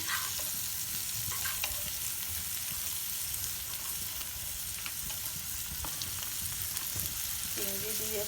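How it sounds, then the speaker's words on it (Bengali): Cauliflower and shrimp fry in a pan with a steady, quiet sizzle, broken by occasional clinks and scrapes of stirring. No one speaks. "চিংড়ি দিয়ে ফুলকপি ভাজি।"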